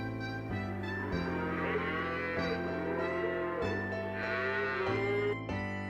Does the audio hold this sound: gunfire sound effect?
no